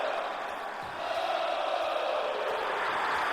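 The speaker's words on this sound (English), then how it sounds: "You hear the crowd chanting along with him." Crowd chanting inside a wrestling arena in the WWE 2K24 video game, a steady broad roar of many voices that swells slightly partway through and continues without break.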